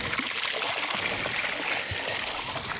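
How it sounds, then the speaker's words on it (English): A small koi pond pump pours out a steady, broadband stream of water, a continuous splashing trickle that stays close and fairly loud throughout with no talk. "this pump puts out a fair amount of water"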